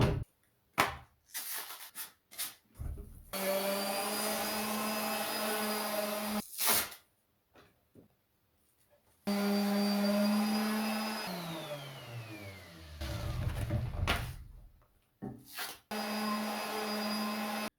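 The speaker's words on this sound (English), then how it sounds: "Now I'll sand them the first time with a rough grit, then 2 more times using a finer one." A power sander runs in long sustained passes over wooden stair treads, working with rough and finer grits, its steady motor whine broken by brief stops and restarts, loud and close with no talk.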